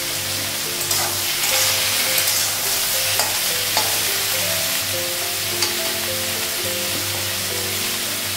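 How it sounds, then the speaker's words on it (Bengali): Brinjal (aubergine) pieces fry in oil in a pan in a Bengali home kitchen, giving a steady, loud sizzle throughout with a few light clinks of stirring, and no talking. "আর একটু বেগুনটা ভেজে দিয়েছি, একটু ভাজা হয়ে গেছে।"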